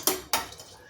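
A spoon scrapes and knocks twice against a metal pressure cooker while pav bhaji is stirred in a home kitchen, two sharp clinks followed by a softer tap.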